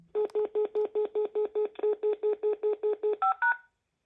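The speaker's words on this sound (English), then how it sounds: "So I'm going to dial a number here." Panasonic KX-TGJ420E cordless phone dialing a number: a rapid, evenly spaced run of about fifteen clear DTMF keypad beeps, then two final tones at a higher pitch, close and loud with no talking.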